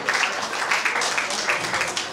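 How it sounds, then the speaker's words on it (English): Live audience at a Kiltubrid GAA mock wedding applauding Sister Mary Fidelma, a steady wash of many hands clapping close by, continuous and fairly loud with no clear gaps. "Give a big round of applause."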